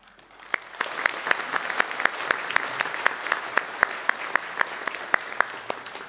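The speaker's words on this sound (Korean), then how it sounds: "잠깐 일어서시면 박수로 환영하도록 하겠습니다." A church congregation applauds to welcome visiting elders from Chicago during a Sunday worship service, a steady patter of clapping with sharp individual claps standing out, moderately close and continuous for several seconds.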